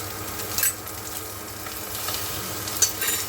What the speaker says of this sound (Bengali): চিংড়ি মাছগুলো এইবার এখানে ভালো করে ভাজা হবে